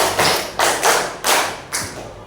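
Pupils in a classroom clap in unison following a counted clapping routine, giving several strong, evenly spaced group claps about a third of a second apart, close and loud with no voices.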